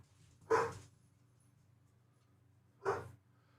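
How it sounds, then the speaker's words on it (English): Two short, distant dog barks at home, separated by a couple of seconds of quiet over a low hum. "I do want to halfway listen to the dogs"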